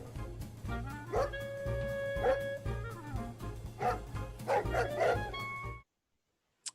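Several dogs bark and yip in quick bursts, loud and close, with whimpering between barks, then stop abruptly into silence before one last faint yelp.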